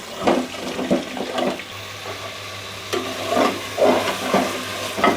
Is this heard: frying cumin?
yes